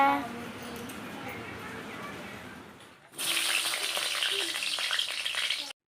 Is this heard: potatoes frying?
yes